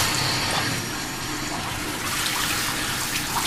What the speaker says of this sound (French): On va rincer le tout.